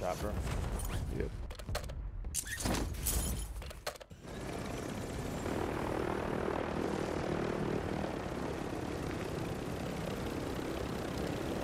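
A helicopter in a duos battle-royale video game gives a loud, steady whirring rotor and engine drone that fills the clip after about four seconds, preceded by choppier bursts of game noise.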